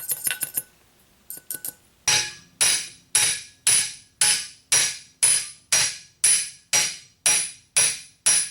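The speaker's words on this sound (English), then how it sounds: "I will tap down with a long pipe that's longer than the axle." Long metal pipe hammering an axle seal down onto a Ford 9N/2N tractor axle: a few quick light taps, a short pause, then a steady series of about a dozen loud, evenly spaced metallic strikes, each ringing and decaying.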